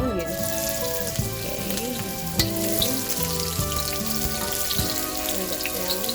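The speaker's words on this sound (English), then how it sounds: "So the onion is fried a little bit." Onion frying in a pan for mung bean soup: a loud, continuous sizzle and crackle with a steady hiss, plus a brief spoken word and faint background tones.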